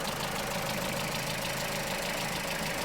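A Vauxhall Corsa's engine idles with a steady, even, mid-to-low drone and a faint rhythmic knock running through it, heard close and unbroken, with no talking.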